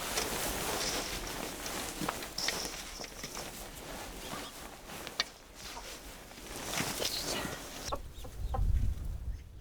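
Chickens in a coop in a snowy mountain village cluck softly at intervals amid rustling and shuffling footsteps, with a low thump and handling noise near the end.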